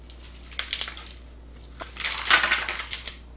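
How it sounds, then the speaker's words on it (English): Two bursts of hard, rattling clatter as chunks of ice tumble and knock into a container, close by, with a quiet pause between them. "you probably can hear the ice falling down in here"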